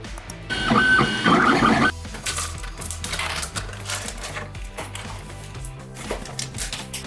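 A desktop 3D printer printing RC car steering parts from filament, with a loud burst of whirring stepper-motor chatter early on, then softer intermittent buzzing, rattling and clicking movements as the print head travels.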